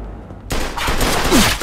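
Rapid gunfire in the video game Mafia 2, a loud burst of continuous shots that starts after a brief quiet lead-in and holds to the end.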